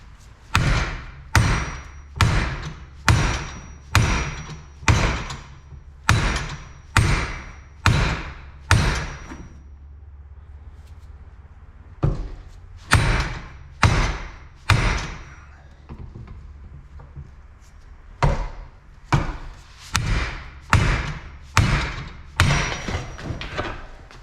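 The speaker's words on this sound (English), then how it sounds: "it took a lot of pounding with a hammer, and it came apart" Repeated heavy hammer blows strike in steady bursts of several hits each, with short pauses between sets, loud and close, pounding loose a part of a Datsun 260Z brake booster.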